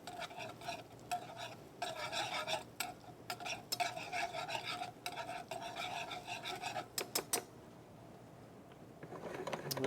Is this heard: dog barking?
no